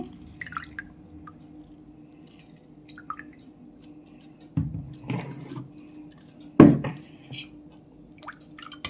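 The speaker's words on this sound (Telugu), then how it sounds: "ఒక్కాయ నిమ్మకాయ తీసుకొని నిమ్మరసం పిండుతున్నాను." Lemon squeezed by hand for masala buttermilk, a few wet squishing and dripping bursts, the loudest near the end, with small clinks of glass between quieter pauses.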